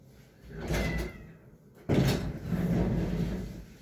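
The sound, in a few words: door being closed after shooing cats out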